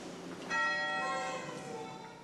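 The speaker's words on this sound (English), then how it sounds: "With only the steady tolling of a bell" A church bell at Christ the King Catholic Church tolls once, a loud, ringing strike with a long, shimmering decay that slowly fades over a faint background.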